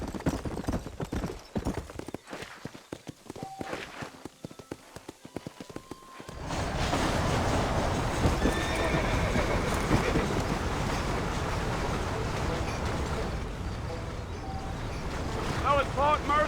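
A horse in the Red Dead Redemption video game breaks into a gallop. Rapid rhythmic hoof clip-clops come first, then give way to loud rushing wind and movement noise, with a faint voice.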